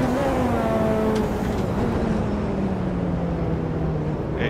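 A Ferrari GTO engine in Automobilista 2 drones loudly and continuously, its pitch slowly falling as the revs ease, with no voices over it.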